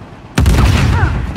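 A grenade explosion in Uncharted 4 multiplayer, a sudden loud close blast followed by a sustained rumbling roar that holds for about a second without talk.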